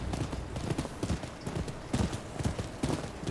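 Steady clip-clop of horse hooves trotting at a regular pace in the video game Rise of the Ronin, close and fairly loud, with no voices.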